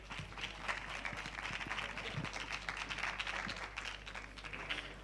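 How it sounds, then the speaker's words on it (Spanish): A small audience gives a quiet, sparse round of applause to a speaker at a talk. The thin clapping sits over a constant low electrical hum. "La recibimos con un aplauso"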